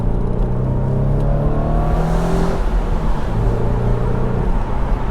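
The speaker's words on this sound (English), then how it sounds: "So again, let's accelerate up here." A BMW Z4 with a tuning chip giving about 270 horsepower accelerates from the cabin, engine note rising steadily and loud, with continuous road and wind roar underneath.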